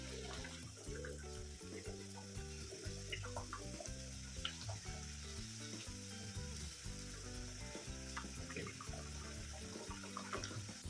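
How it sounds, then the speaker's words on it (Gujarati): Cut pieces of wheat-flour and fenugreek snack dough deep-frying in hot oil over a medium flame, giving a steady, continuous sizzle and bubbling from start to finish, close and even, with no talking. "હવે આપણે બધા જ કટ કરેલા નાસ્તાને તેલમાં એડ કરતા જઈશું"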